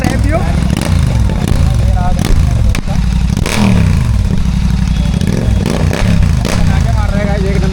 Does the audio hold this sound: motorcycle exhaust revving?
yes